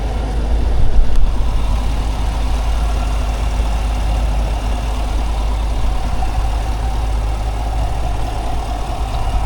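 A 2021 Chevrolet Silverado 1500 High Country V8 idles steadily and close by, a continuous low rumble with a brief louder swell near the start and no talking.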